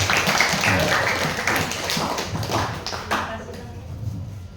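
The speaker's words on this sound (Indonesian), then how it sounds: "Tepuk tangan dulu." School audience at a junior high school outreach session breaking into applause, dense clapping that is strong at first and then thins and fades toward the end, heard from within the room.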